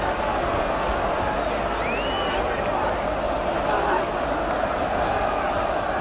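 A large football stadium crowd at a 1979/80 English league match swells in a broad, continuous roar of cheering and shouting that rises slightly toward the end.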